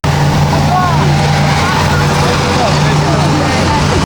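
Old amphibious BTR armored personnel carrier running its engine while floating on a river, a loud continuous drone with a steady tonal hum, heard under a talking voice.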